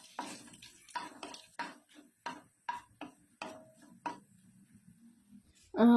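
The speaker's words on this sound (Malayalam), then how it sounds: "ഇനി ഇതിലേക്ക് 2 ഉണക്കമുളക് 2ആയിട്ട് കട്ട് ചെയ്തതിട്ട് മൂപ്പിക്കുക." Dried red chillies and shallots frying in a pan, heard as a dozen or so sharp, evenly spaced spatula scrapes and clinks close up over a low sizzle, with a louder knock at the end.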